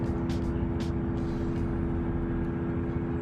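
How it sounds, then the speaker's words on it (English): Continuous low industrial drone of an AI data center picked up from a distant backyard miles off, steady tonal hum over rumbling noise with a few faint higher hisses, no voices. "That's an AI data center that's being filmed from someone's backyard many miles away from the data center."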